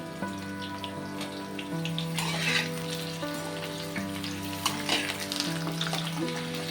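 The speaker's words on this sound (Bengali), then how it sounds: "তারপরে পটল আর আলুগুলো একসাথে লালচে করে ভেজে নেব।" Pointed gourd and potato pieces fry in a pan, making a close, constant sizzle with scattered crackles and a few stirring scrapes. No one speaks.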